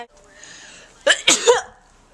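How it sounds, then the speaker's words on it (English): A single close, loud sneeze bursts out after a moment of quiet room tone, a sharp explosive blast with a short trailing breath. "Oh, I just sneezed all over my camera."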